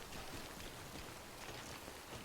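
Timefall rain in the video game Death Stranding falls as a faint, even hiss of steady rainfall with no breaks and no speech.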